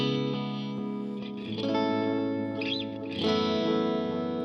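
Electric guitar notes run through a murky Pete Cornish TES analog delay set for dark tones, each chord smearing into dark, repeating echoes with a warbling chorus-like shimmer.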